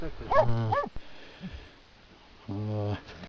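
A Laika hunting dog in Yakutia barks close by, two short loud barks, a pause with faint sounds, then another sustained bark.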